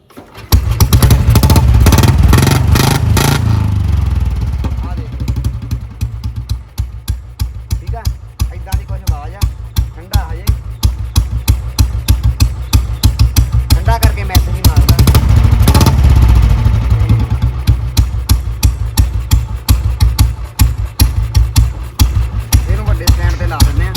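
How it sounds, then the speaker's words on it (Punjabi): A Bullet motorcycle fitted with a tractor silencer roars loudly after a rough start, then settles into a deep, steady thumping idle with rhythmic exhaust pulses, revving up again midway, close to the listener. "ਤੁਹਾਨੂੰ ਆਵਾਜ਼ ਸੁਣਾਈ ਆ ਵੀ ਤੁਹਾਨੂੰ ਪਤਾ ਲੱਗ ਜੇ ਪਹਿਲਾਂ ਆਵਾਜ਼ ਬੋਲਟ ਦੀ ਕਿਵੇਂ ਆ"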